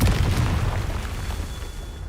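A Confringo fire spell explodes in the Hogwarts Legacy video game, a loud, sustained booming blast that rumbles steadily for a couple of seconds with no voices over it.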